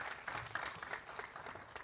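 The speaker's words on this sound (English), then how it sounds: "Ladies and gentlemen, a big round of applause for Dr. Ajay Mathur." A conference audience at an inauguration event claps continuously in a faint, distant patter of many hands.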